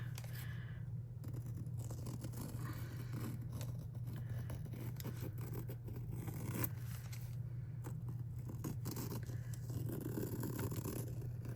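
Scissors snip apart a strip of washi tape printed with a small bouquet, giving soft, scattered clicks and scraping close by over a steady low hum, with no voices.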